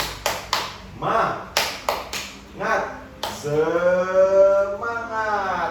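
A teacher leads a classroom "spirit clap": a run of sharp, rhythmic claps in quick bursts and pauses, followed by children's voices chanting together, fairly close and clear.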